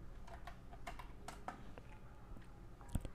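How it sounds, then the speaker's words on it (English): Keys clatter on a computer keyboard as Python code is typed, a steady run of quick close clicks with a louder tap near the end. "So I will just type here import"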